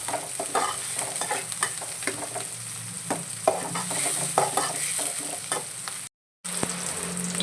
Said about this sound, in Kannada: ಸ್ವಲ್ಪ ಫ್ರೈ ಆದ ನಂತರ ಸ್ವಲ್ಪ ಮಿಕ್ಸ್ ಮಾಡ್ಕೊಳ್ಳುವ ಈ ಥರ